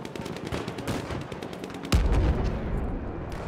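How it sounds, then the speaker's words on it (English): An enemy machine gun fires in the Battlefield 1 video game, heard as a rapid run of sharp, evenly spaced shots followed by a heavy, booming impact and continued gunfire. "Enemy machine gun over there."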